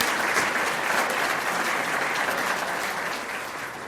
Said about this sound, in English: So let's give Cece and the whole program another round of applause.